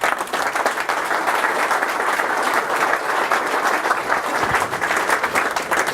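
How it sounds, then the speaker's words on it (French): A crowd of audience members at a formal speech applauds their colleagues with dense, sustained clapping that stays steady and loud for the whole stretch. "Vous les applaudissez"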